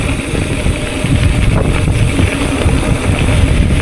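Strong gusty crosswind buffets the microphone during a Trans Rockies The Range gravel bike race, a loud, continuous low roar with no talk.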